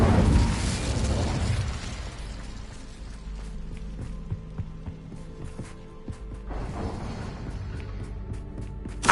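In Hogwarts Legacy, an Incendio fire spell erupts in a loud burst, then settles into crackling, clinking bursts and mechanical clatter before a second flaring burst and a sharp pop at the close, with no voices.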